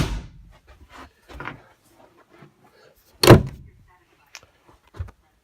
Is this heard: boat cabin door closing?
yes